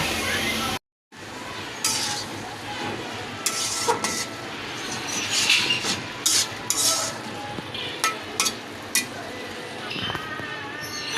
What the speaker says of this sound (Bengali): এখন এই ঢাকনা দিয়ে একটা ঢাকা দিয়ে দেব